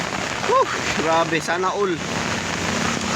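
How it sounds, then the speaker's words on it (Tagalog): Heavy rain pours down in a steady, broad hiss that runs the whole time, with people talking over it. "Oh, lakas ng ulan niya no."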